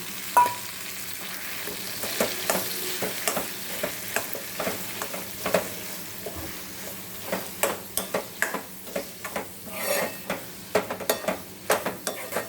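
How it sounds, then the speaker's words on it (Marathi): Roasted, mashed eggplant goes into a hot pan and is stirred, giving a steady close sizzle with frequent sharp scraping and spatula clinks in an irregular rhythm, no voices. "आता मी टाकते भाजून मॅश केलेले वांगे"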